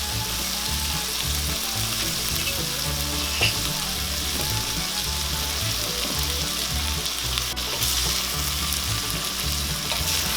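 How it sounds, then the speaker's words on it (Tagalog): Ampalaya with tofu and egg frying in a pan give off a steady, even sizzle with faint scraping, continuous and close, with no voices. "hahayaan lang po natin yan ng konti na maluto yung itlog"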